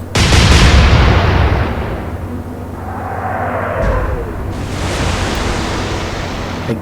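Naval guns fire in the Atlantic Fleet video game, set in the Battle of the Atlantic. A loud, close boom rolls out over steady ocean wash, and a softer second report follows partway through.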